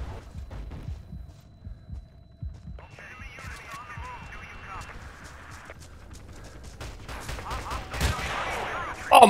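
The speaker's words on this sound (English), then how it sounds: "that's the artillery on me" Artillery fire booms and rumbles in a first-person shooter battle, with scattered gunshots, a steady hum, and a loud blast at the end while a player talks over it.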